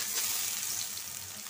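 Onion and green chili fry in hot oil, a faint steady sizzle with soft crackle and no voices.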